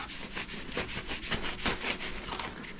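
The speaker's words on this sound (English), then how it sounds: "I'm gonna put that on this scuff pad. And I just want to come in here and I'm gonna scuff all of this up" A scuff pad rubbed over the car body panel of a 1977 Regal gives rapid rhythmic rasping strokes, close and steady, before priming.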